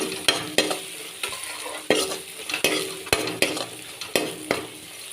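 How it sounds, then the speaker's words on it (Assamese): Onions with ginger-garlic paste fry in a pan with a constant sizzle, broken by a regular series of sharp scrapes and clinks from stirring. The sound is close and there is no talk. "এতিয়া কেঁচা গোন্ধ নোযোৱালৈ ফ্ৰাই কৰি ল'ম।"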